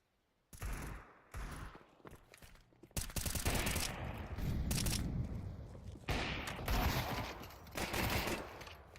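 Pistol gunfire during a Counter-Strike match, loud bursts of rapid shots with brief gaps between them, close and punchy, mixed with other game sounds and no clear talk.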